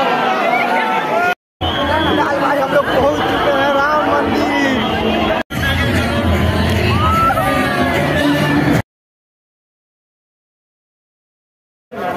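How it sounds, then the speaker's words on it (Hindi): Dense crowd chatter and babble fill a packed Ram Mandir Durga Puja pandal in Kolkata, with shouts and whoops over the din; the noise stops briefly twice, then cuts out near the end. "बहुत भीड़ है"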